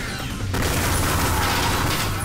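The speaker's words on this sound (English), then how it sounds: "I'm pretty sure it's some kind of incendiary rounds." Incendiary rounds fired in the video game Ion Fury, a sharp burst that opens into a dense rolling crackle of gunfire, fairly loud and sustained to the end.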